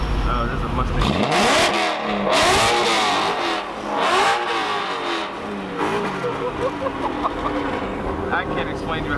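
Ford Mustang engine at a busy car meet, revving loudly in repeated sweeping bursts up close, with crowd chatter and other engines mixed underneath.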